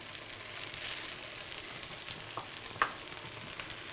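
Potatoes fry in a pan with a steady, even sizzle, broken by a couple of soft knocks and one brief sharp tap as they are flipped.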